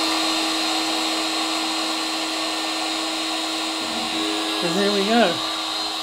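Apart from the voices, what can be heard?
lathe spindle running with electronic leadscrew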